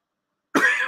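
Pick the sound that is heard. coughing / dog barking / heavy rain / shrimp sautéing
coughing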